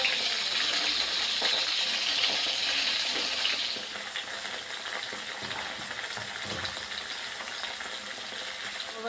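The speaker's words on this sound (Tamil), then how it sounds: "இப்போ நம்ம கட் பண்ண கோவக்காய் இதில் போட்டுட்டு ஃப்ரை பண்ணிக்கலாம்" Steady, close sizzling of ivy gourd (kovakkai) pieces frying in oil in a kadai, bright and crackling at first, then settling to a slightly quieter continuous fry with occasional spatters.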